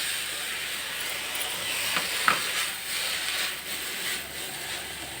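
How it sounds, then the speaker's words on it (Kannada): Fenugreek leaves sizzle and hiss in a hot pan, a steady frying bed of sound with a brief sharper crackle and stirring scrapes, close and moderately loud, no talking. "ಈಗ ಮೆಂತ್ಯ ಸೊಪ್ಪನ್ನು ಕೂಡ ಹುರ್ಕೊಳ್ಳೋಣ."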